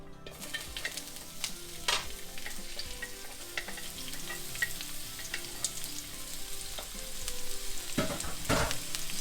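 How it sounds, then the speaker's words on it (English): Chopped onions and garlic sizzle in olive oil in a pan for a Filipino pasta, with a steady close frying hiss, occasional stirring scrapes, and louder crackles near the end, with no talking. "So what you guys want to do is gisa them or saute them, the onions, the garlic."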